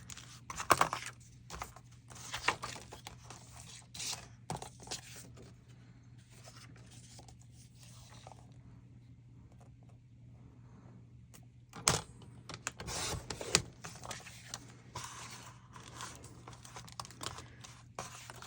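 Scissors cutting across folded paper for a window envelope pocket, a run of close, crisp snipping and rustling bursts, busiest at the start and again near the end, with a quieter stretch between.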